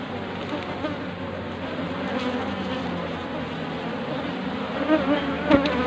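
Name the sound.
bees buzzing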